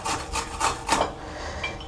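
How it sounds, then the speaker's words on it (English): Fresh okra is rubbed over a kitchen grater in several quick rasping strokes, close and fairly loud, with no voices. "You just wash the okra and all you do is to grate."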